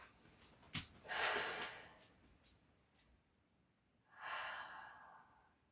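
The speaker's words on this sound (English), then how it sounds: "Couple of breaths" Two slow, audible breaths during a yoga side-bend stretch, a short sharp inhale followed by a longer airy exhale, then a pause and another soft breath, close and quiet with no talk.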